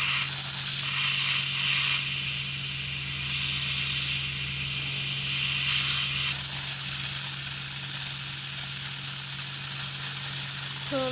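An AAS-4000 atomic absorption spectrometer nebulizer sprays out its sample in a continuous loud hiss with a steady low hum beneath, close up and without talk.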